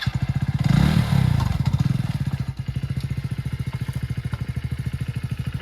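A motorcycle engine idles close by with a steady, fast, even beat, briefly swelling louder near the start before settling back to a regular putter.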